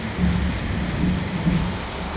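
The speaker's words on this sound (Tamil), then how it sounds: "அங்கிட்டு பார்த்தா சோன்னு மழை இங்கிட்டு பார்த்தா சோன்னு மழை" Heavy rain pours down in a dense, steady roar, with a low rumble that may be thunder beneath it and no pauses.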